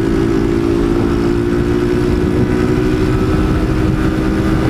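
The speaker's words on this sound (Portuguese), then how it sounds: "Eu vou travar esse motor" A motorcycle engine, a 150 with a new HRC exhaust, runs steadily close by, a loud sustained drone with a firm low tone and no voices.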